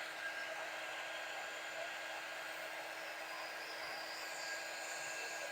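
A hair dryer blows steadily on floral greenery for a Christmas arrangement, a constant airy whir that stays quiet and even throughout.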